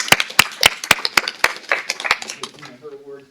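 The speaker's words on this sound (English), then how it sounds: "Let's give Dina a round of applause." A handful of people clap sharply at a quarterly workplace awards gathering, about ten distinct close claps in a short burst that fade out as a voice begins speaking.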